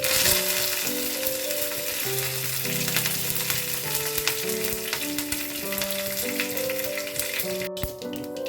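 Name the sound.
dry red chillies and curry leaves sizzling in hot oil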